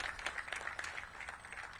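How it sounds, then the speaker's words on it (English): Faint applause from an audience at a mayoral celebration for a new architecture firm headquarters, a soft, steady patter of clapping heard from a distance for about two seconds. "Our current council member, Brianne Nadeau, give her a big round of applause."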